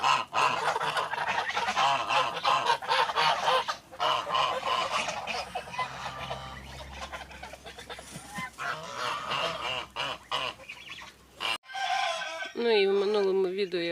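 Geese honk and cackle repeatedly amid other poultry clucking, with a loud, close honking burst near the end.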